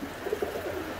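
Tippler pigeons coo softly in a loft, low repeated murmuring calls over faint background noise with no talk.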